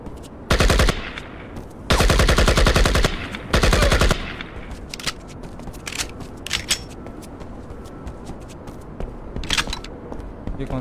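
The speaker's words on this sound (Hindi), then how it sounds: "machine gun" Machine gun fire in the PC shooter PUBG: Battlegrounds: three loud sustained bursts of rapid automatic fire, then scattered single shots and short pops at a distance, with no talk over them.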